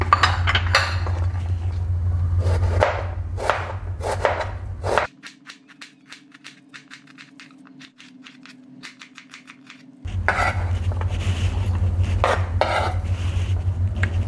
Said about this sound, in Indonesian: Ini bawang besarnya sudah selesai dicincang.